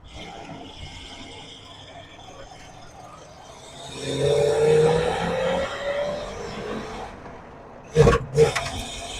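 Car engine fitted with an oversized 750 carburetor revs up under acceleration, a rising roar swelling midway, followed by sharp popping bursts near the end, loud and close.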